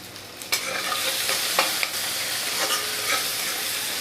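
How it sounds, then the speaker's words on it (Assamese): Tomatoes fry in a pan with salt and turmeric, giving a loud, close sizzle broken by several scraping stirs of a spoon, with no voices. "আৰু এতিয়া ইয়াতে মই বিলাহীখিনি দি দিছোঁ। বিলাহীখিনি অকণমান ভাজিব লাগিব।"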